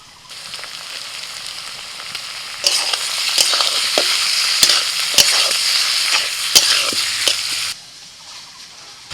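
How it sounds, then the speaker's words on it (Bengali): Chopped onion and chicken pieces frying in a pan, a steady loud sizzle with sharp scraping clicks of a spoon stirring, the sizzle swelling midway then dropping back near the end. "পেঁয়াজের সাথে চিকেনটাকে নাড়াচাড়া করে নিয়েছি 2-3 মিনিট"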